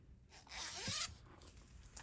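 One quick zipper pull, close and soft, a brief rasping zip lasting about half a second against quiet room noise.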